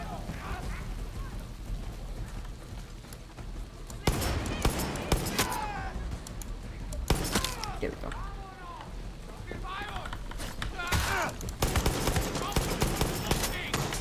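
Gunfire in Far Cry 6 crackles in repeated bursts across the whole stretch, loud and dense, with a voice talking over the shooting at several points.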